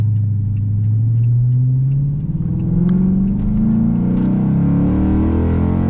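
A Mopar car's engine revs loudly up close as it pulls away, the pitch climbing steadily through the acceleration with a deep rumbling exhaust.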